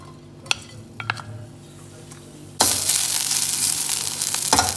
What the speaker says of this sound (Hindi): और तुरंत इसमें हम सबसे पहले ब्रोकली डालेंगे।